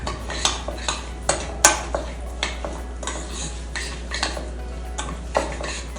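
A utensil clinks and taps repeatedly against a bowl as coconut oil is mixed with cookie ingredients for spelt chocolate chip cookies, a steady rhythm of close, fairly loud knocks with no talking.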